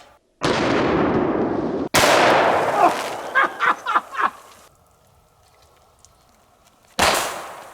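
Two loud, close gunshots from a .45-70 derringer and a .410 derringer fired at soda cans outdoors, each a sharp blast with a long echoing decay, followed by smaller pops and spraying fizz, then another blast at the end.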